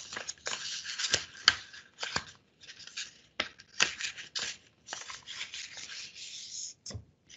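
A sheet of paper is folded in half for a paper snowflake, giving close, quiet crinkling and sliding rustles in short bursts with brief pauses between them.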